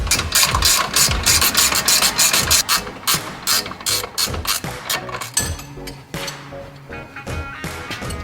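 A ratchet clicks in fast, steady bursts while bolts are tightened during a 3-inch front lift kit install on a 2015 Jeep Wrangler, loud and close with brief pauses between strokes and no talking.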